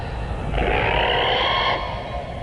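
Reconstructed call of the pterosaur Quetzalcoatlus as a sound effect: a single drawn-out, echoing screech over a low rumbling bed, swelling loud for about a second before fading.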